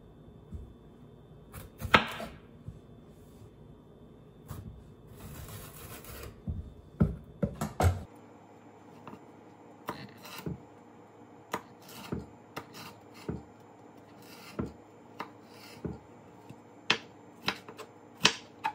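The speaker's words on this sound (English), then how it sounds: "Next, we're gonna cut another jalapeno." A knife cuts a jalapeno on a board in a series of close, crisp chops and taps, irregular at first and then coming in a steady spaced rhythm.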